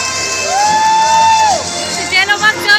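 A crowd at an awards ball shouts and cheers, starting with one long, sustained high-pitched shout followed by excited bursts of yelling and cheering, loud and close.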